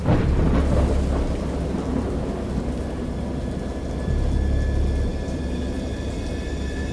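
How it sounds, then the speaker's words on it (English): A heavy thunderstorm with deep rolling thunder rumbling continuously, a louder peal near the start and another around the middle, amid steady rain noise. "I heard peals of thunder and other tones which nature utters only in her wildest moods"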